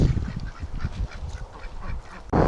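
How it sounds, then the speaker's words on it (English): Breeding ducks quack and chatter nearby in a busy, overlapping flock, with a loud burst at the very end. "That's happy ducks."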